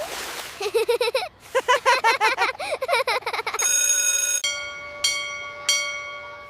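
A cartoon school bell rings to end recess, a steady sustained electric ring that starts partway through, stops briefly, then rings again, preceded by a childlike voice talking excitedly.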